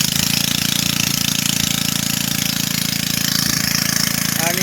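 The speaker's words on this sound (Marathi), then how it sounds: "मशीन चालू कर रे" A water pump engine runs for irrigation from a village well in the Konkan countryside, a loud, steady rapid chugging throb that continues throughout, close by.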